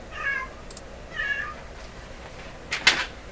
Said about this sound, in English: I'm going to have to go deal with my cat.